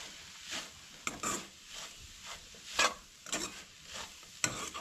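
Ingredients dry-roasting in a pan over medium heat for a vegetarian thali, with a soft sizzle broken by several sharp scraping stirs of a spatula against the pan, close and moderately quiet, no voices.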